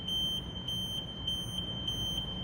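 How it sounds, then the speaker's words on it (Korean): The emergency stop warning alarm on an S12 ride-on wet floor cleaning machine sounds as a continuous high-pitched electronic tone, pulsing in regular beats over a low machine hum, steady and fairly loud without speech. "빨간색 버튼 비상정지 버튼을 누르면 경고 알람과 함께 모든 작동이 정지하게 됩니다"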